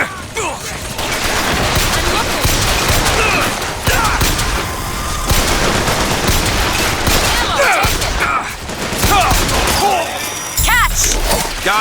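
Heavy turret gunfire and crashing impacts in the BioShock Infinite shooter, sustained loud bursts with thumps and mechanical clatter throughout, voices mixed in beneath the din.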